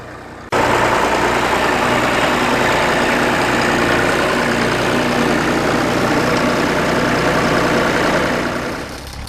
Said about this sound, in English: here we are with a Harry Ferguson combination, the 35 and the 3/4 Ferguson plough, showing how to plough without a depth wheel